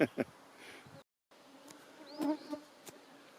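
Mosquitoes buzz close around a person at the end of a swamp portage on a canoe trip near Parry Sound, Ontario, faint thin whines drifting in and out with a few soft rustles and brief gaps.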